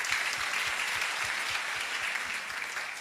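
An audience at a seminar on becoming a professional leader claps in a sustained burst of many hands, loud and fairly close, fading slightly toward the end.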